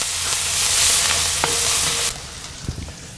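Minced garlic and diced shallots sauté in a Kamado Joe cast iron wok with a loud, steady broadband sizzle and stirring scrapes, then the sizzle drops to a softer hiss with a few clinks near the end.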